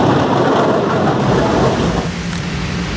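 Heavy rain pours steadily in Mato Grosso do Sul, a continuous dense roar with deep thunder rumbling underneath, loud and close throughout.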